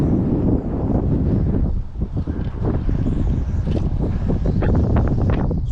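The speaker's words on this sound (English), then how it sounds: "It's very windy" Strong wind buffets the microphone on a riverbank during an evening fishing session, a loud continuous roar with gusty rustling and no talking.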